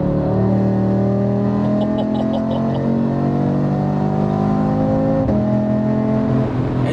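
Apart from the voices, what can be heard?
Audi RS3 8Y exhaust revving with OPF delete and downpipe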